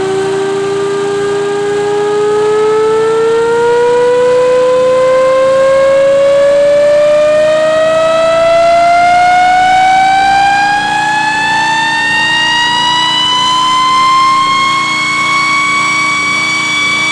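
A pulley-driven slotted disk siren winds up steadily, its loud wailing tone and harmonics rising smoothly in pitch over about seventeen seconds, with a motor hum underneath and no talking.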